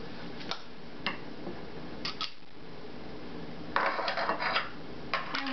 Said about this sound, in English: mix it in with some blue cheese dressing, and then you're just going to scoop it